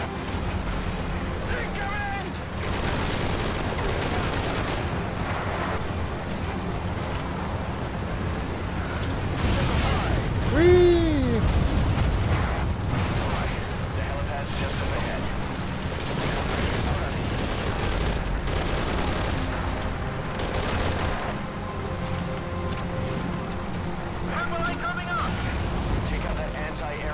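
Repeated bursts from an anti-air gun in Metal Gear Solid V: Ground Zeroes, heavy rhythmic booming fire with explosions layered under game music, while someone talks throughout.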